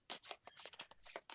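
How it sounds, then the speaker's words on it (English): Character cards for the Feed the Kraken board game are shuffled close up, a quick series of crisp riffling and sliding snaps in an irregular rhythm, fairly quiet. "So these will be shuffled."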